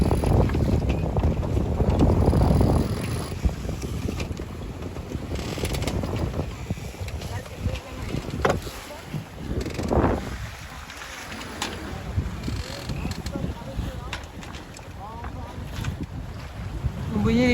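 Wind buffeting a sailboat under a reefed mainsail and partly furled genoa, blowing around 10 to 15 knots: a steady, loud rush of air on the microphone with stronger gusts and water sounds, continuous throughout.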